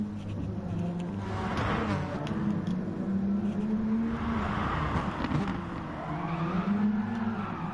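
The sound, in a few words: race car drifting at Tsukuba circuit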